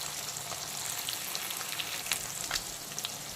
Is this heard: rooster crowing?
no